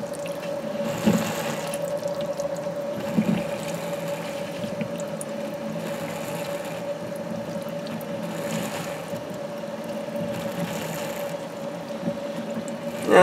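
Steady water bubbling and gurgling through a boiler being flushed of scale and minerals, with a constant pump hum underneath and occasional louder surges; no voices.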